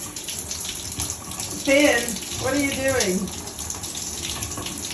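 Shower water running steadily in a home bathroom, a loud close hiss throughout while a voice speaks briefly over the spray.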